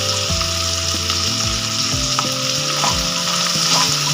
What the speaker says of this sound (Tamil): இதுக்கு தேவையான அளவு உப்பு போட்டு நல்லா ரோஸ்ட் பண்ணுங்க